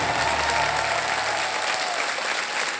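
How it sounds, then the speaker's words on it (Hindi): On the Hindi Wheel of Fortune game show, a studio audience gives the band loud, dense applause, a steady roar of clapping mixed with crowd noise that tapers slightly toward the end. "जोरदार तालियां उन बैंड के लिए।"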